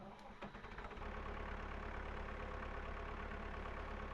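A tractor engine cranks briefly and catches, then settles into a steady, close, rumbling idle that holds for several seconds without talk.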